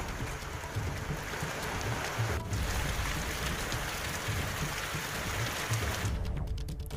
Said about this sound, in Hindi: कई इलाकों में सुबह से मूसलाधार बारिश हो रही है।